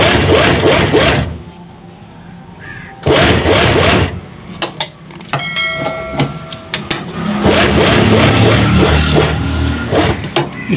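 An electric sewing machine stitches a straight seam on a gents' suit, with long loud bursts of fast, steady mechanical whirring and clatter broken by brief pauses and a few sharp clicks.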